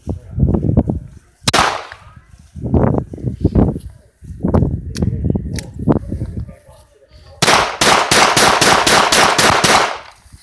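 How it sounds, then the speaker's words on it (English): Loud close gunshots fired at targets, first as separate spaced shots with a voice talking between them, then a rapid string of about ten evenly timed shots. "Are you shooting this target over here?"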